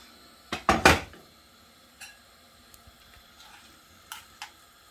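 Cooked fish pieces for Jamaican brown stew red snapper are tipped out into a cooking pan with a cluster of loud clattering scrapes, followed by a few quieter clinks of metal and utensils.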